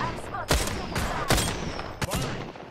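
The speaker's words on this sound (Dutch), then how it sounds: "We gaan schieten." Gunfire in Apex Legends on Nintendo Switch, several sharp shots spaced irregularly over a noisy background with a voice faintly present.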